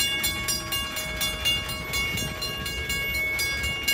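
A train rumbles past nearby in Franklin Park with rhythmic clattering wheels and a sustained tonal whine over the rolling noise.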